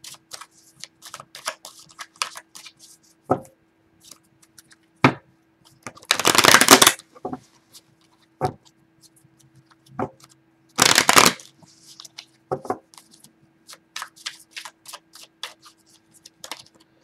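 Tarot cards are shuffled by hand in a quiet room, bursts of riffling flutter alternating with soft taps and slides of the deck, close and clear with no talking.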